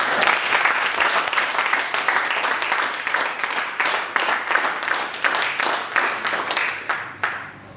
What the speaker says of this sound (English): First of all, a great round of applause.